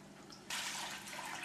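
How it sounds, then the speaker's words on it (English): Water pours into a pot for homemade ginger beer, a faint trickle that turns into a steady, louder splashing stream halfway through. "I'm going to put a gallon in each pot."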